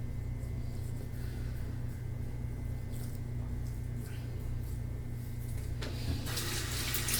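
Water runs steadily from a sink tap while someone washes their face, a continuous close hiss with light splashing that swells near the end.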